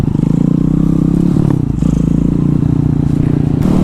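A Honda Grom motorcycle fitted with a swapped-in 212cc Zongshen engine idles close by with a loud, pulsing rumble and some rattling clatter, steady throughout.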